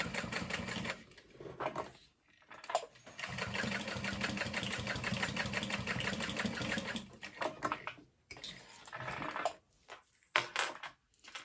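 A sewing machine stitching a backpack runs in long, steady, rapid-chattering bursts with brief pauses between seams. It is close and fairly loud, and no one speaks.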